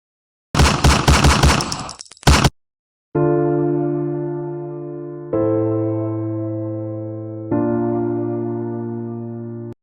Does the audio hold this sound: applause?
no